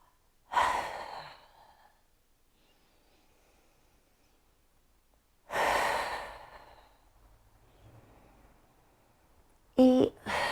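Deep breaths during a Pilates exercise, two long, close exhalations several seconds apart with quiet pauses between, then a short burst of sound at the end.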